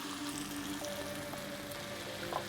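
Onion tomato paste simmering in a pan, a faint, even sizzle with a soft steady hiss and light bubbling, quiet and close with no talking.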